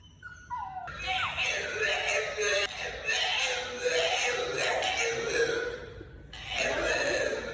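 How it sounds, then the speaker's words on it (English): A dog at a daycare whimpering and whining in high, wavering cries, fairly close, with a noisy background and brief pauses between bursts. "This dog wasn't too happy about being at daycare."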